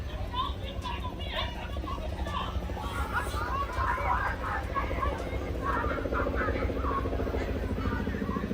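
A helicopter's steady rotor rumble drones in the background while people chatter nearby.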